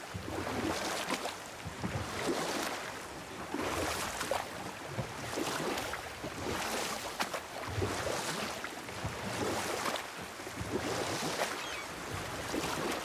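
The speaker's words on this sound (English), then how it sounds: "Keep rowing towards the statues of the oarsmen, then thread past between them." Oars pulling a boat across water in God of War, a steady rhythm of rushing splashes roughly every second and a half over a constant wash of water and wind, with no talking.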